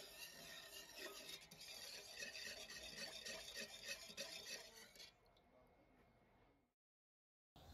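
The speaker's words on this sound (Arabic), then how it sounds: "بحرك الملح حتى يدوب" A spoon scrapes and swirls steadily, dissolving salt into water for brining lupini beans, a continuous stirring rasp that stops abruptly, leaving near silence.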